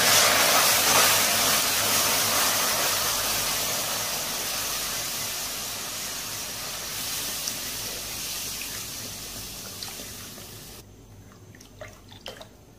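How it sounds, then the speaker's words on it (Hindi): Full cream milk poured into caramelized sugar over a flame gives a loud, continuous hissing sizzle that gradually eases, then drops away to quieter bubbling with a few small pops and drips. "चीनी को हमने कैरमलाइज कर ली है, अब इसके अंदर शामिल कर देते हैं दूध 1 लीटर फुल क्रीम मिल्क।"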